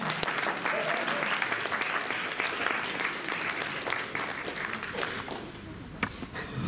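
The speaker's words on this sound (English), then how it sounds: "let's give a round of applause" A round of applause from an audience, with brisk, close-sounding claps that are dense at first and then thin out toward the end, and some voices mixed in.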